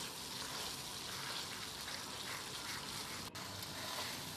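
Ginger, garlic and green chili paste frying in a pan for a Bengali pangas fish curry, stirred continuously with a spatula, giving a steady, close sizzle with no pauses.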